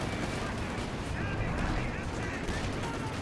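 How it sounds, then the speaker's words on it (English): Heavy, continuous battle gunfire and cannon fire, including a Pak 40 anti-tank gun, in Company of Heroes 2. The dense, loud barrage runs the whole time under a talking voice. "Does get a nice stun shot there from the Pack 40."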